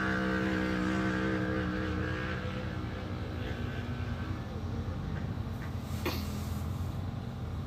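A youth racer's engine in the Wild West 100 race at Columbus, Montana, drones steadily with a strong tonal hum, shifting slightly in pitch as it closes in, with no talk.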